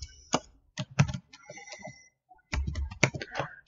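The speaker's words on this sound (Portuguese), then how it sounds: "eu estou usando o botãozinho do asterisco aqui no meu teclado" Key presses on a CASIO fx-CG500 graphing calculator, a string of sharp, close clicks and taps in uneven bursts with low background noise.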